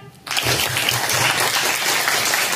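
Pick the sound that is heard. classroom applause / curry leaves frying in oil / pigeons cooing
classroom applause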